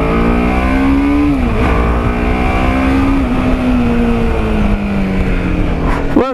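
A TVS Apache RR310 motorcycle pulling away in first gear along an empty residential road, engine note rising steadily and loudly before easing off, then a quick sharp rev at the end.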